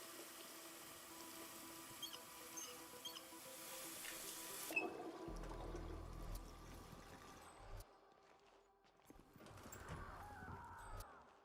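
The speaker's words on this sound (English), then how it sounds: "get the faucet running" Water running from a faucet in the Hitman video game, a steady broadband rush that starts and stops, with other game sounds after it.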